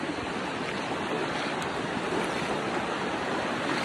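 Floodwater rushing over flooded rice fields, a loud, steady broadband roar of flowing water mixed with wind buffeting the microphone, continuous throughout with no talk.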